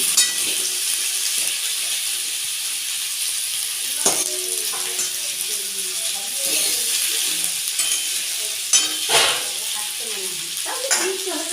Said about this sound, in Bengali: আমি কড়াইয়ে তেল বসিয়ে দিয়েছি, এদিকে আমি আলুটা কড়াইয়ের মধ্যে দিয়ে দিয়েছি, আলুটা কষানো হচ্ছে